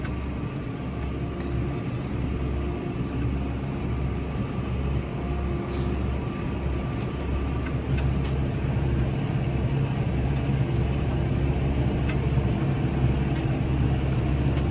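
A steady low engine drone from a farm truck and skid steer arriving to load hay holds constant and fairly loud throughout, with faint clanks over the rumble.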